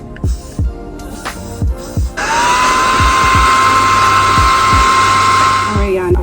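Handheld hair blow dryer switched on and running steadily with a loud, constant whir and high whine, preceded by soft handling clicks and pumps of a spray bottle.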